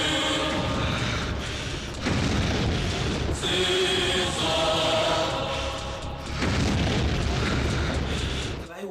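Booming bomb blasts from an Odia film fight scene roll out in a series of heavy, loud bursts, with short gaps between them and brief voices in the mix.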